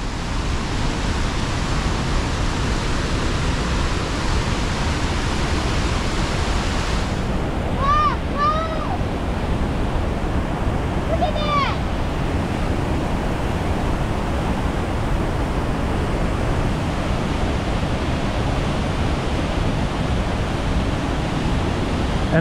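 Molinuco Waterfalls in Ecuador roar with a constant, loud, broadband rush of falling water. A couple of brief high chirps rise above it partway through.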